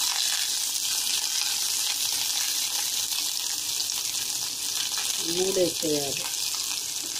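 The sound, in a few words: onion, green chillies and curry leaves frying in oil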